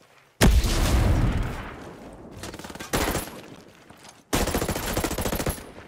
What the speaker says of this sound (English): Unsuppressed enemy fire. Taking rounds.